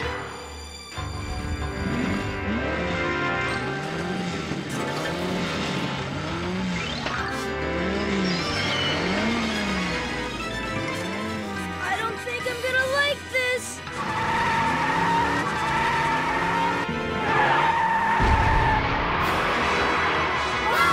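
A bus engine revs in rising and falling cycles, then roars louder as the bus pulls away, with music-like tones over the noise.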